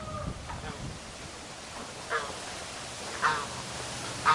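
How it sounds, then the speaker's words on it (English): Ducks and geese lounge on a farm, among them a Chinese goose, giving a few scattered distant honks and calls over a quiet outdoor background. "We've got some ducks and geese lounging."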